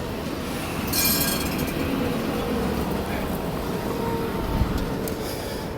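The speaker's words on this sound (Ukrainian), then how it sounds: "Ось трамвайчики львівські" A tram rumbles along a busy street in Lviv, Ukraine, near the town hall, with steady low roar, faint metallic clinks and rattles, and distant city noise around it.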